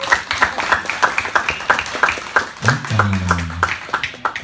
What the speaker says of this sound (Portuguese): Aplausos, né, gente?